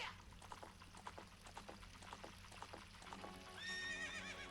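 A horse in the video game Zelda: Ocarina of Time gives a loud whinny over rhythmic clip-clop hoofbeats. A watery pouring sound builds near the end.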